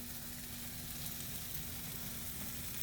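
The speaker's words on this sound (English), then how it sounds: "These peppers back into a hot pan. They are sizzling and being jazzed up." Peppers and sausage sizzle in a hot pan, a steady crackling, frying hiss close by that holds evenly throughout with no talking.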